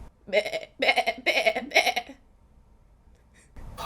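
Several goats bleat in close succession, four loud nasal calls in a row, then silence and a faint rustle at the end.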